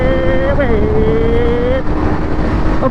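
A Kawasaki Z900 motorcycle engine drones loudly and steadily during a wheelie, its tone dipping briefly then holding, heavily buffeted by wind noise over the microphone.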